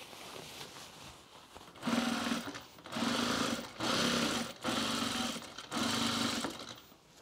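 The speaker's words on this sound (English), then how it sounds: "I'm just going to stitch this down right along the seam line there" Five short, evenly spaced bursts of a sewing machine stitching along a seam line of a bomber jacket, each run starting and stopping cleanly over a soft room background, with no speech.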